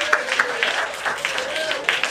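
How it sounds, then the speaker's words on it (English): Church congregation clapping hands together in recognition, a steady patter of many claps filling the room, with faint voices mixed in. "Let's recognize them with a hand clap."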